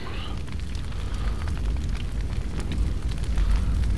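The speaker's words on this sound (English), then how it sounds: "That's fire, and fire is hot." Fire burning in the ZOMBI video game, a continuous low roar with scattered crackles and small pops, moderately loud and steady with no voices over it.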